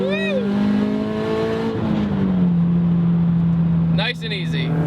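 A turbocharged Scion FR-S pulls gently in second gear, its engine a steady, droning hum that rises slightly as it accelerates. The sound is close and continuous, and a brief vocal exclamation comes near the end.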